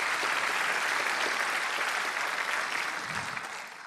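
An audience applauds after a Roman stornello folk song, steady dense clapping filling the room and tapering off slightly toward the end.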